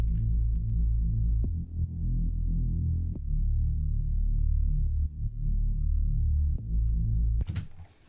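Deep sidechained synth bass notes that swell and dip in a pumping pattern, loud and close, with a short burst of noise at the end.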